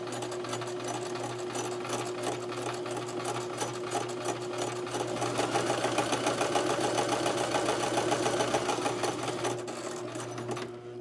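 A Brother LX2375 sewing machine stitches a buttonhole down a piece of fabric, a rapid steady mechanical whirr and chatter running continuously and close.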